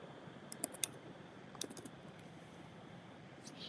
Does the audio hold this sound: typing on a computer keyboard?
yes